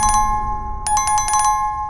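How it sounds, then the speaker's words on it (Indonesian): Bright electronic notification bell chimes: a short ring, a pause, then a quick burst of several rapid rings, clean and alone. "Jangan lupa subscribe dan lonceng notifikasinya."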